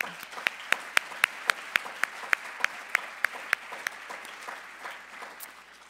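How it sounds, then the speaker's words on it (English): Audience applause for season sponsors at a Winter Words 2020 author event in Aspen: a few loud, evenly spaced claps lead a thinner crowd clapping that tapers off over about six seconds. "let's give a round of applause for all of our season sponsors."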